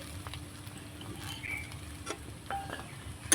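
Spiced potato filling for aloo paratha is stirred in a pan, producing soft scraping and patter over a low sizzle, with scattered light clicks of the utensil, close and quiet.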